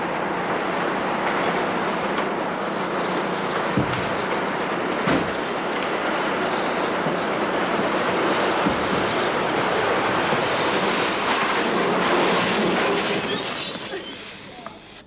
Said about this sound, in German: Sie stehen auf dem Bahnübergang und jetzt kommt ein Zug.